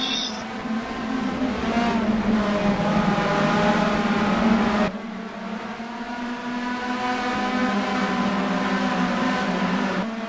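Race cars at speed on the Nogaro circuit, a steady loud engine drone with rising harmonic tones as they pass one after another, with a brief break midway and a commentator's voice faintly over it.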